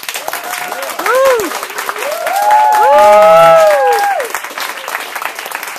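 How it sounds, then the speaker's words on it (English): An audience at a hack day judging presentation breaks into applause, cheering and whooping. The clapping is close, with raised voices and loud shouts swelling in the middle. "So, round of applause."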